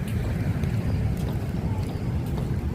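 Wind blows steadily outdoors on an overcast day, a continuous low rushing and buffeting against the microphone that stays loud throughout, with no clear voices over it.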